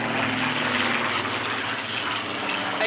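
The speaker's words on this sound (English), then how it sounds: "The first Supermarine Spitfire PR Mark 19 was completed in October 1944, powered by a Rolls-Royce Griffin 66." A Supermarine Spitfire PR Mark 19 with a Rolls-Royce Griffon engine flies at the Clacton Airshow, a loud, steady propeller-engine drone with a throaty hum that holds throughout the short stretch.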